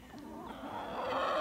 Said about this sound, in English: But I do have one of my roosters here.